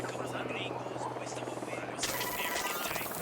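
Helicopter flying in Ghost Recon Wildlands, a steady rotor drone and hum that holds throughout and swells louder and brighter partway through, with game sounds layered over it.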